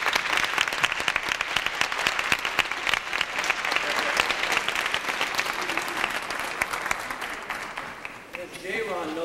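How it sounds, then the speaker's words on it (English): A high school pageant audience gives a long, loud round of applause, many hands clapping in a dense, sustained roar that fades a little near the end as a voice starts to speak. "please stand and give you a round of applause"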